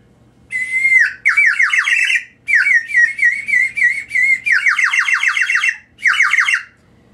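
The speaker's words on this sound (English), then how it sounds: "And this has water in it. It's a one-note whistle." A water-filled one-note whistle warbles in a series of bubbly, trilling bursts, about six short runs separated by brief pauses, close and fairly loud.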